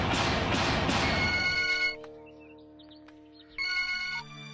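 A phone rings with a bright electronic ringtone, loud and close, first over a burst of louder noise and then alone, with a pause before another ring starts.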